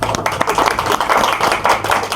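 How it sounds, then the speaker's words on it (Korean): Students at a church youth service clap together in a dense, steady burst of applause, close and loud, with no talking over it. "박수 한번 보내주십시오."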